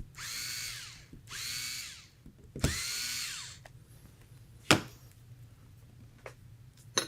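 Power drill driving cap screws into an FX Impact air rifle, three sustained whirring bursts in the opening seconds followed by a sharp click and scattered faint handling noises, close and alone.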